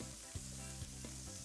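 Chicken sizzles in hot, smoking oil in a pan, a faint steady crackle under a low tonal hum, with a few small soft knocks.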